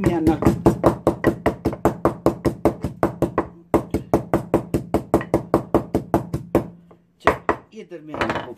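Spices for Lahori masala fried fish are pounded coarsely in a mortar: rapid, evenly spaced thuds close up, continuing for several seconds, pausing once, then a few final strikes.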